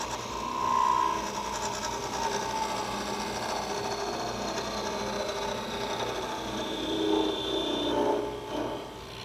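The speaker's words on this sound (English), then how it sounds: "Now I use the parting tool, finish parting the waist down here to about 3/16 of an inch in diameter." A wood lathe spins a small turned wooden tulip while a parting tool cuts its waist down to a thin stem. A steady mechanical hum runs under light scraping and chatter throughout, with no speech.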